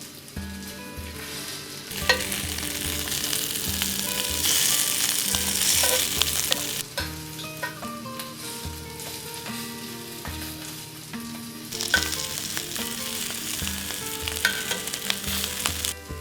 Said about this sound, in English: Fry the meat on a non-stick skillet until all sides have turned crispy.